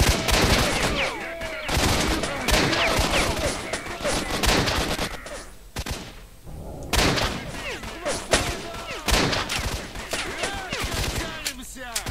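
Gunfire in the video game S.T.A.L.K.E.R.: Shadow of Chernobyl, dense, loud volleys of rapid shots with one brief lull midway, and a voice talking underneath.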